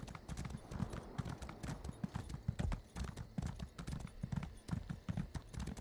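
Horse hooves clip-clop steadily at a brisk riding pace in Elder Scrolls Online, loud and close, with a continuous rhythmic run of strikes and no talking.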